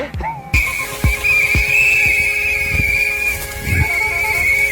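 A sustained shrill whistle runs through a chaotic outdoor scene, loud and continuous over a background of insects and scattered thumps, with no talking.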